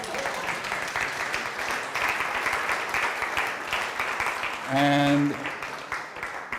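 A lecture audience claps together at the end of a talk, a dense steady patter of applause lasting the whole moment, with one voice briefly speaking over it.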